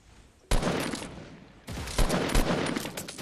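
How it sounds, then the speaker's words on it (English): Loud bursts of Fortnite gunfire cut in abruptly from near silence, first a sustained burst, then a second run with several heavy repeated shots, close and alone. "I just sniped them"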